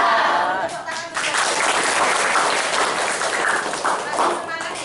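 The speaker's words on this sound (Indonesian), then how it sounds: "Tepuk tangan untuk" Students from a vocational high school applaud together in a classroom, a dense steady patter of clapping filling the room from start to finish, with voices mixed in underneath.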